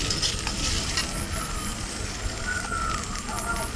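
Bottle gourd peel fries with freshly added green chilies in a pan over a village cooking fire, giving a steady, close hissing sizzle throughout, with no one talking.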